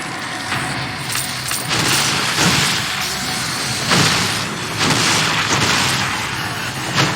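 An exploding Haunted enemy in The Evil Within game goes off in a loud, sustained roar of blasts that swells and surges in several heavy waves, with no talking.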